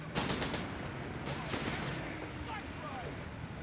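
Battle sounds from Company of Heroes 3: a dense wash of machine gun bursts, a Vickers among them, and mortar fire crackle on and on, with sharp reports standing out, all under continuous excited commentary.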